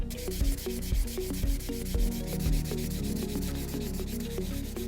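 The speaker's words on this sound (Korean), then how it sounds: "지금 이와 같이 수작업을 통해서 연마 작업을 한번 진행을 해 봤고요." Folded sandpaper rubbed by hand over a wooden woodcraft piece, a steady close scratchy sanding in repeated back-and-forth strokes with no talk.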